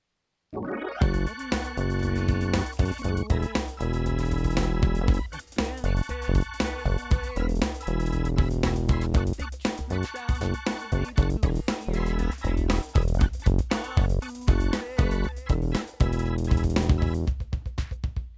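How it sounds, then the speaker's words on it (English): An organ line plays back from an audio workstation, dense sustained chords with rhythmic accents running steadily and loud for the whole stretch, with no talking over it. "So now we got ourselves an organ line that sounds like this"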